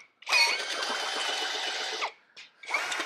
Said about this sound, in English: it's a really aggressively pitched drill bit